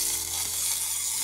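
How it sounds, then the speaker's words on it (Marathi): Chopped onion goes into hot oil already crackling with mustard seeds and cumin for a tur dal and onion dish, giving a steady, close sizzling hiss with no talking. "मी भांड्यात तेल टाकले, तेलात मोहरी कडकडून झाल्यानंतर मग जिरे टाकल्यात. मग आता वर मी कांदा घालते."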